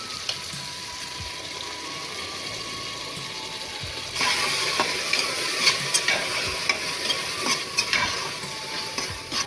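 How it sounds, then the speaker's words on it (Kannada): Ground masala paste goes into a hot tempering of fried tomatoes for tomato rice bath, hissing steadily and growing louder after a few seconds, with close spatula stirring and scraping clicks and no talk. "ಇದಕ್ಕೆ ರುಬ್ಬಿರುವಂಥ ಪೇಸ್ಟನ್ನ ಹಾಕ್ತಾ ಇದ್ದೀನಿ"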